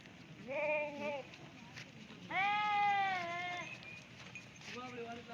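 Sheep bleat several times on a mountainside, wavering cries at moderate distance, with a long bleat in the middle and shorter ones around it.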